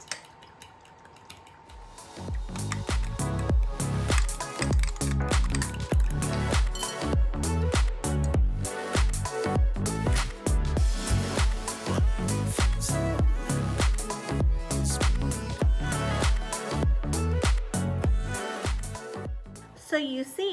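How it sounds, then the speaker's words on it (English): Paleo brownie batter with egg gelatin being whisked hard in a bowl, with a steady run of fast scraping clinks and taps that starts after a quiet opening second or two and keeps going to the end, close and busy. "We've got to whisk this vigorously."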